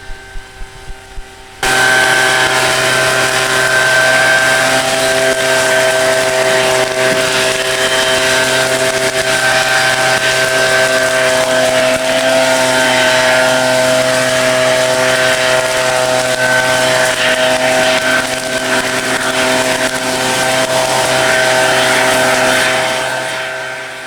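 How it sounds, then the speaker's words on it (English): Shindaiwa EB630 backpack blower used by a fire crew on a fire, starting up after a few quiet seconds into a loud, steady high-revving engine roar with a strong whine that holds throughout. "Here the blower is being used in an aggressive attack."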